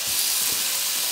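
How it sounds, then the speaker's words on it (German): Tomatoes sizzle in a frying pan alongside bratwurst and bacon, a steady close crackling hiss with faint stirring bumps and no voices. "ich gebe jetzt hier zu den Bratwürsten in die Pfanne unsere Tomaten"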